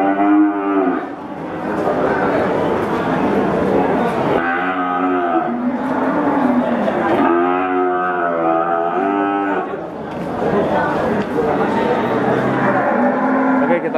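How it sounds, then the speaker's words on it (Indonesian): Jumbo cattle at a busy livestock market in Grobogan, Central Java, low loud moos and bellows repeating over continuous crowd and yard noise. "Inilah sapi-sapi jumbo, teman-teman."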